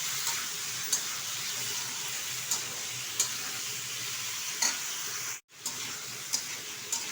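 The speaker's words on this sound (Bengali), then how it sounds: "একটু কষিয়ে নেব ভালোভাবে।" Ground cumin, ginger paste and tomato sautéing in a pan, a steady close broadband sizzle with occasional soft clicks of stirring and a brief sharp dropout near the end.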